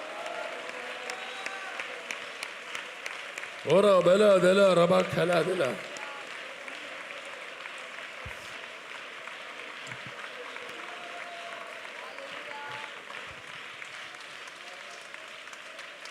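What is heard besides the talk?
congregation clapping hands in church worship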